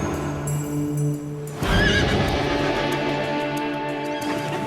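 Horses caught in an illegal roundup on Navajo land neigh loudly and repeatedly at close range, with shuffling hoof clops underneath and no talk.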